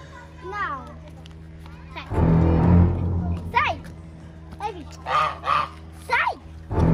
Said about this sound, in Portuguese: Um pato solto